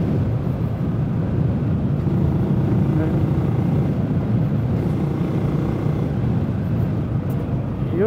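Benelli motorcycle on a test ride, either an Imperiale 400 or a TNT 600, its engine droning steadily with wind rumble throughout as the rider shifts up through the gears.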